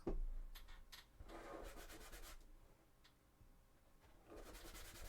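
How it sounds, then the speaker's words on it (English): Hand-sanding underneath the bottom of a Sisters of Battle cosplay armour piece produces soft, close scratchy strokes in short bursts separated by brief pauses, fairly quiet with no talking. "let's try and now really sand at the bottom underneath"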